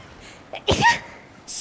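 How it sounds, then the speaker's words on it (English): A single sharp sneeze bursts out close and fairly loud during a raid speedrun session, with a brief intake just before and a short noise afterward. "Sneeze!"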